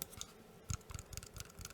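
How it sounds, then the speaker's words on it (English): A computer mouse clicked up close in a quiet room, a quick irregular series of sharp crisp clicks with no talking. "We can do some mouse clicks just quickly."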